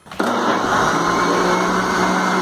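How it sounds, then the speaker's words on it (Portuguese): A kitchen blender whirs up cooked pumpkin for a chicken and pumpkin soup, motor kicking in abruptly and holding a steady, loud, dense grinding roar with no voices. "Então nós vamos colocar as abóboras para bater no liquidificador."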